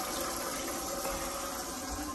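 A cruise ship cabin toilet aboard the Carnival Breeze flushes with a powerful, steady rushing roar of water, loud and close, sustained without break and with no voices over it.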